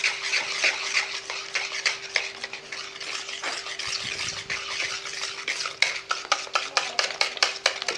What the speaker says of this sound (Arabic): بعد ما خلط الكاس الاول ديال الطحين